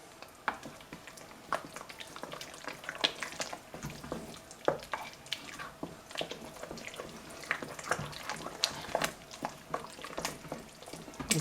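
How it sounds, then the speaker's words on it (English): A pot of cheeseburger dip being stirred, with repeated scraping and clinking strokes over a soft bubbling sizzle, close by and steady, no one talking. "now let's stir this all up"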